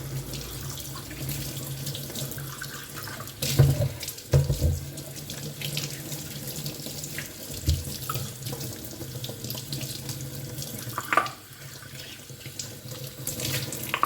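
Running tap water pours steadily over a new, small stone mortar and pestle as it is washed in a sink, with brief louder splashes and knocks of stone as it is turned under the stream; no talking.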